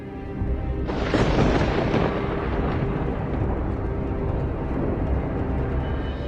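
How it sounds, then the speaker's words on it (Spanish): A sudden crack of thunder bursts in after a quiet moment, then rolls on as a long, loud rumble that slowly fades. "De repente, retumbó un trueno."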